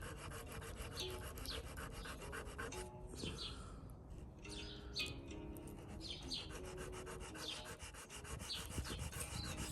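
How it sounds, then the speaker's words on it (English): A steel chisel edge is rubbed back and forth on sandpaper in a rapid, continuous scraping rhythm, faint and close, with birds chirping softly in the background. "the sandpaper on the chisel so you can really see that line"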